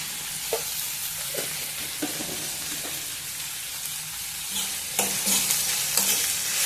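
Tomatoes and onions with a pinch of salt fry quietly in a pan for sambar, a soft continuous hiss broken by occasional spatula taps and scrapes, fairly faint and without any voices.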